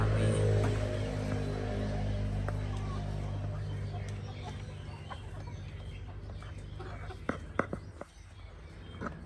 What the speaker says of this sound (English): Chicken's all happy.